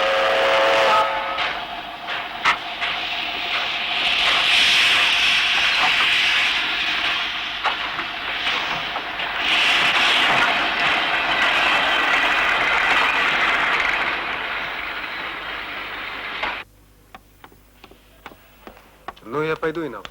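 Train carriage rolling along in an Ossetian mountain setting, a steady loud rumble with rail clatter and a whistle-like tone, under people talking; the noise cuts off near the end, leaving quieter ticking sounds.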